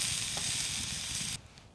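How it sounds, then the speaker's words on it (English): Food sizzles and fries in a super small frying pan inside a lavvu hot tent while camping in the rain, a steady close hiss that cuts off abruptly partway through. "Get back to you when it's all cooked in my super small frying pan."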